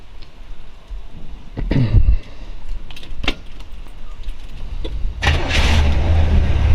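A 1940 Ford Woody Wagon with a Corvette 327 V8 cranks with a brief rattle and key jingle, then catches and settles into a loud, close, steady rumbling idle.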